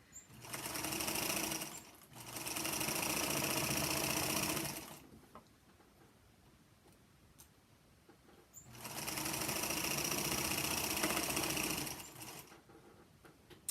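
Featherweight sewing machine stitching through many layers of quilt binding fabric, two loud bursts of rapid mechanical chatter separated by a quiet pause with faint handling noise.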